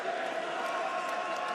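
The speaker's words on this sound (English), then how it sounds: "who leads the applause for Steve Jamoye. I hope they both get a standing ovation" Arena crowd at an IBO Inter-Continental title boxing fight between Jason Easton and Steve Jamoye, steady dense roar of applause and crowd noise filling the short stretch at an even level.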